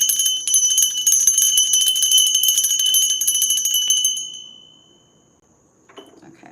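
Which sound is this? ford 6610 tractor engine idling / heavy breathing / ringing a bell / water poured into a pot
ringing a bell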